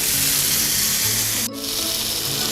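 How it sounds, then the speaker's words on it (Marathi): Paneer tikka pieces roasting in a pan over a low gas flame give a loud, continuous close-up sizzle with one brief dip partway through, and no talking. "हे पनीरचे पीसेस आपण चांगले भाजून घ्यायचे आहेत।"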